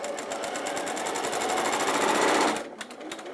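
Sewing machine running a quarter inch seam on pale fabric for campervan cushions, a close, fast, steady mechanical stitching rattle that eases off near the end.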